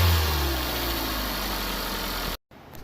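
A 2016 Kia Soul 2.0L engine runs with the exhaust cut off where the catalytic converter sits, under a no-power condition with a suspected clogged cat. It gives a loud, steady, raspy open-pipe roar that stops abruptly near the end.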